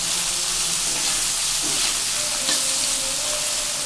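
Taro stolons with salt sizzling in mustard oil in a pan, a loud, even hiss of frying close by with faint scraping of stirring, no talk.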